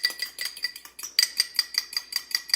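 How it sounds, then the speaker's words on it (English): A fork whisks salad dressing in a bowl, giving quick, rhythmic metallic clinks and scrapes, close and bright, with a brief pause partway through and no voices. "I'm just going to use a fork to whisk it"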